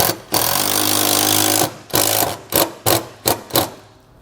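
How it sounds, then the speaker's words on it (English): Self-tapping screws driven with an 8 millimeter socket while fitting a side step to a 2020 Toyota Tacoma: a sustained loud power-driver whir, then a series of short sharp bursts as each screw tightens. "we're going to tighten it down with an 8 millimeter socket"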